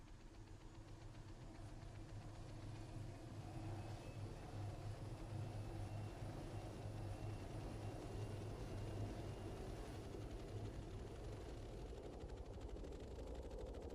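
A UH-60 helicopter in a flight simulation game spools up its turbine engines: a steady, continuous whine and rumble with a low drone and thin high tones, holding at an even level throughout without any voices.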